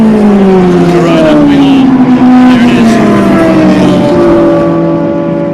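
A Toyota GR Corolla race car roars around a racing circuit at a historic championship, its engine note sweeping steadily downward as it passes, loud and continuous, with a commentator talking over it.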